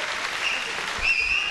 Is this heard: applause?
yes